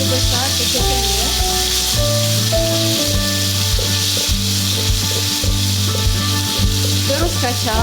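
Ground chili paste sizzles loudly as it fries in a wok, with a spatula scraping and stirring through it in steady strokes, close up with continuous hissing.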